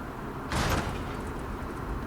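A door in a video game cavern opens with a brief, loud whooshing scrape that fades over about half a second, set against a steady low ambient hum.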